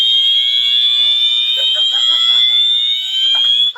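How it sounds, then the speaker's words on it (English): A loud, piercing electronic alarm, like a fire alarm, blares continuously as a makeshift wake-up alarm in a residential neighborhood, with faint voices talking underneath. "That's a hell of an alarm clock."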